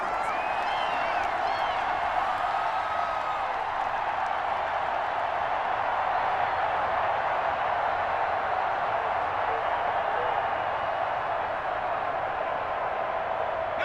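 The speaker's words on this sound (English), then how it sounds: "The crowd getting into it as we come up on a big third down." A packed stadium crowd at an NFL game between the New York Jets and Indianapolis Colts roars in a steady, dense wash of cheering and noise that holds at an even level throughout, with a few whistles and shouts rising from the mass.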